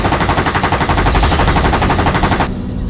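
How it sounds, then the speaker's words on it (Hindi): A rapid burst of automatic gunfire, loud and close, rattling steadily for a few seconds before cutting off. "कोई गोली बरसा रहा है।"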